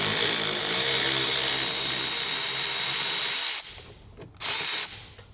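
A power drill-driver fitted with a Torx T40 bit whirs steadily for several seconds while backing out a front bumper fastener on a Tesla Model Y Juniper, then stops and gives one more short burst.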